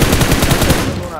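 Rapid automatic gunfire in the BGMI battle royale game, a close, loud burst of evenly spaced shots lasting about a second.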